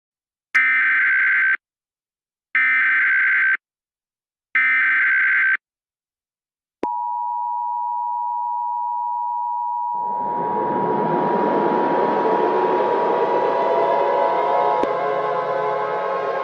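Emergency Alert System attention signal: three evenly spaced data-burst blasts, then a long steady two-tone alert sustained at full level, with a broadband rushing noise rising beneath it toward the end.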